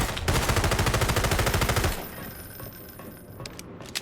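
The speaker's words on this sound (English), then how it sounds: "I can shoot them properly." Rapid automatic gunfire from the video game Hunt Down the Freeman, a dense loud burst of shots lasting about two seconds, then fading into quieter game ambience with a few faint clicks.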